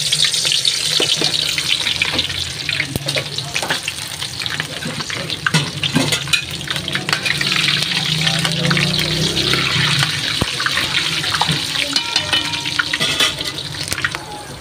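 Onions go into hot oil for pork binagoongan with eggplant, giving a loud, dense, continuous sizzle with scattered crackles and a few clinks, close and steady throughout.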